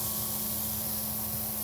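A close, continuous hiss of isopropyl alcohol sprayed from a bottle into a small painter's dish for mixing weathering pigments, steady and unbroken with no talk.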